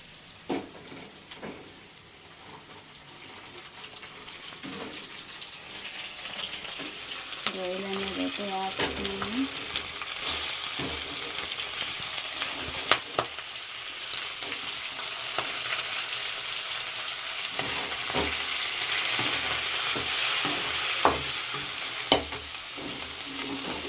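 Prawns frying and being stirred in a pan, a steady sizzle that builds over time, with scattered scrapes and clicks of a spatula and a brief tonal squeak partway through, fairly close with no talk.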